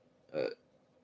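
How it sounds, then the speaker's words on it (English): A single short, low rumbling gurgle from a person's stomach, close and fairly loud against a quiet room, lasting about a quarter second. "I just heard my stomach growl."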